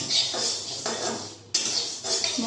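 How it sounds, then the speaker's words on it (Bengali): Moong dal dry-frying in a pan as a utensil scrapes and stirs it, with a few clattering strokes close by over about two seconds and no voices. "প্রথমে আমি মুগ ডালটা ভেজে নিচ্ছি"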